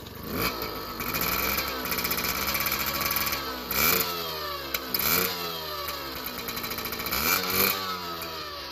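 A 1983 Yamaha PW50 motorbike with a 60cc big bore kit runs close by, its small two-stroke engine buzzing steadily with repeated revs rising and falling, and no one talking.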